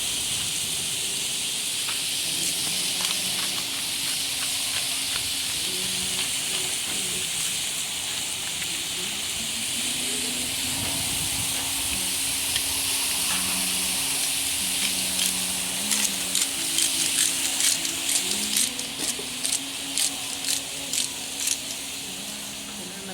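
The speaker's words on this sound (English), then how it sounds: "Seafood cooks up super fast, so this should take but a minute." Seafood sizzles steadily in oil on a Blackstone griddle, a constant bright hiss with occasional spatter, joined late by a run of light rhythmic taps and clicks.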